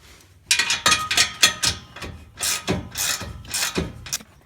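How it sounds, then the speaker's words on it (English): Ratchet wrench tightening a Ford ball-style exhaust flange on a Fox body Mustang, a close series of quick clicking bursts in an uneven rhythm with short pauses between strokes. "I'm gonna go ahead and tighten this down"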